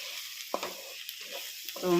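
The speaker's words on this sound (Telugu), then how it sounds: "వేగుతుంది ఉల్లిపాయ బాగా వేగాలి" Onions frying and being stirred in a pan for drumstick curry, with a soft, steady sizzle and faint scraping from the stirring, heard close and fairly quietly.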